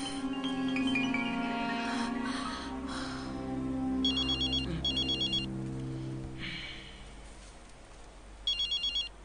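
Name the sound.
telephone ringing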